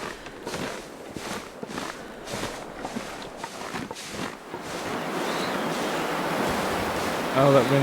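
Howling wind in the survival video game The Long Dark, starting alongside crunching footsteps and swelling into a loud, sustained gust that fills the second half.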